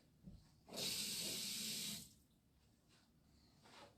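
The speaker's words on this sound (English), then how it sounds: "we'll just put a little water in this plate" A short gush of water poured into a plate for about a second, a bright hissing splash, then quiet with faint handling sounds, in a kitchen.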